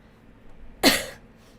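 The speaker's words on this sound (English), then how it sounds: "I'm still coughing" A single sharp cough, close and loud, bursting out of near silence and fading quickly.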